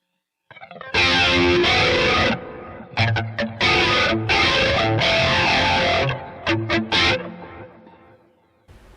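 Electric guitar played through a crunch tone with reverb, loud distorted chords and strums in bursts with brief pauses, ringing reverb tails trailing off at the end.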